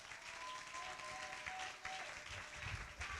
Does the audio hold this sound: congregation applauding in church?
yes